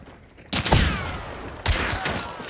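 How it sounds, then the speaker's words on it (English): Gunfire in Hunt: Showdown, two loud, close bursts of shots about a second apart, each trailing into a ringing echo. "They're shooting."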